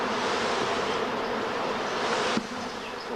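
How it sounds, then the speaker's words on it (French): Honeybees buzz in a dense, steady swarm around an opened hive during queen rearing, a close continuous drone with no voices. "Donc toutes les butineuses vont rentrer à la ruche."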